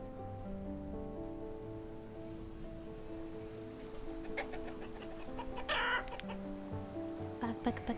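Chickens cluck in the settlement-building game Banished, with soft scattered clucks over a steady ambience that sounds like rain, plus a brief brighter burst toward the end.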